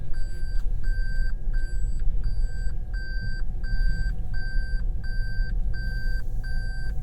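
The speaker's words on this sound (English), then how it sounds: "Yep, so all that beeping." Reversing sensor on a 2021 Toyota Prius backing toward a wall, sounding a steady chain of short, evenly spaced electronic beeps, close and clear over low car rumble with no talking.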